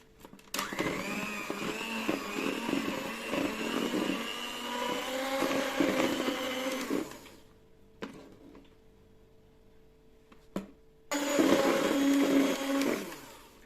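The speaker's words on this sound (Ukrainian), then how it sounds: "вводимо нашу закваску соду і сметану до яєць і будемо продовжувати злегка збивати до однорідності" An electric hand mixer beats eggs with sourdough starter, soda and sour cream in a home kitchen, whirring loudly for about seven seconds, cutting out into near silence with a few clicks, then starting up again.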